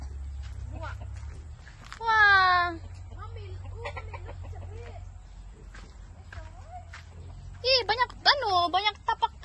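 Chickens at a village farm in a rural kampung give two bursts of loud, close squawking calls, one short and one longer. Between them, people talk quietly over a low background hum.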